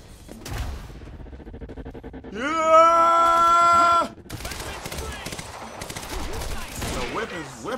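Gunfire in the shooter Quantum Break, sharp shots early on, then a sustained loud blaring burst, followed by more scattered shots and a busy combat din.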